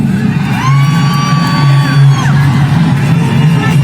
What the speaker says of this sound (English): And for those of you fucking booing us